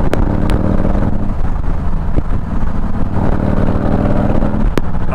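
A Harley-Davidson with a Stage 2 107 engine and torque cam accelerates, a loud close-up throbbing V-twin rumble held steady under heavy throttle with wind buffeting.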